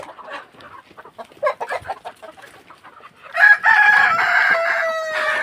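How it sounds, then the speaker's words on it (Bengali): Chickens on a hen farm in hot weather, with short soft clucks and calls spread through the first half, then a louder, sustained rooster-like crow close by. "এই দেখেন হাঁপাচ্ছে মুরগি"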